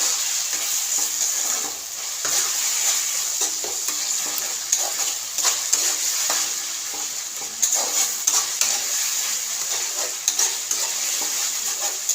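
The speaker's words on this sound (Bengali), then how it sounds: "ভালো করে ভাজছি" Ginger-garlic paste sizzles steadily in a hot pan while a spoon stirs and scrapes it in irregular strokes, close and continuous with no talking.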